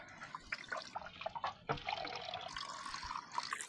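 Water poured over fish to wash them, heard as an irregular run of splashes, drips and trickles close by, with no one talking.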